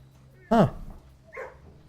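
Dogs barking: a single loud, close bark, then a softer second yip or whimper about a second later, with brief pauses between.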